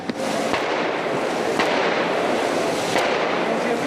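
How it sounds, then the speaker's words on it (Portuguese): Rapid cracks of gunfire during a police shootout with drug traffickers in Rocinha, sharp reports ringing out at irregular intervals over a dense, continuous roar of background noise. "os traficantes continuam atirando contra os policiais"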